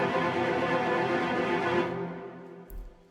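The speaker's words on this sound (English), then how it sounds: "the smooth sixteenths sound like this" Smooth, tied sixteenth-note strings from the Spitfire Symphonic Motions library form a continuous legato ostinato without gaps. The steady, sustained ensemble sound fades out near the end, and a brief low thump follows.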